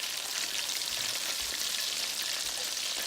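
Chicken pieces frying in a batch of used, contaminated oil, giving a steady, dense crackle and sizzle that runs evenly throughout with no talking.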